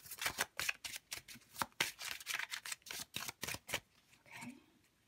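A deck of feather oracle cards being shuffled, a rapid run of crisp riffling flutters close by, dense and steady for about four seconds before easing off into a softer rustle.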